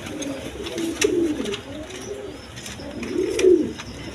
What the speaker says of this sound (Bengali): আরও ডিম বাচ্চা করানো রানিং কবুতর।